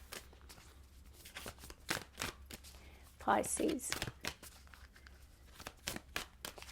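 Tarot cards being shuffled by hand, a close series of quick papery riffles and soft slaps in an uneven rhythm, with someone speaking briefly in the middle.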